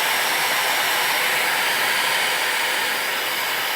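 A hair dryer's blower runs on level 3 with a steady, loud, broadband whoosh and no break for the whole stretch.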